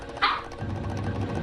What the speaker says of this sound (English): Oh, the puppies are loose.